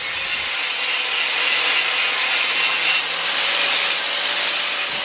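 A metal edge on a log jack build is ground and sanded smooth, giving a steady, loud abrasive rasping that runs without pause for the full stretch, with no talking.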